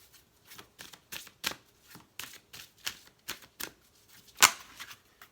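Tarot cards being shuffled in quick, rhythmic riffling bursts, close and fairly quiet, ending with one sharper snap, with no talking.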